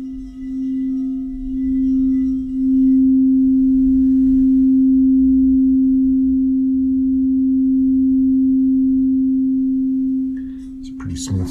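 A crystal singing bowl from a set of seven rings with one pure, sustained tone that swells slightly and holds steady for several seconds before a clunk at the end.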